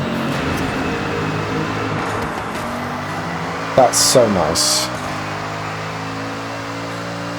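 A revving Datsun 240Z engine in Forza Horizon 6, fitted with anti-lag and unrestricted engine noise, drones close and steady, with a few sharp crackling pops midway, and a voice speaks briefly over it.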